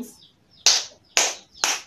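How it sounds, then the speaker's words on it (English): A class of students claps hands three times in a quick, evenly spaced sequence, each clap a sharp, loud burst standing alone without speech. "let's clap our hands 3 times"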